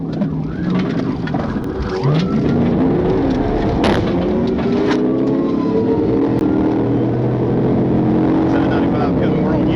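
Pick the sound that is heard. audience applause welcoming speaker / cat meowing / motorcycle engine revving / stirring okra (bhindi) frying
motorcycle engine revving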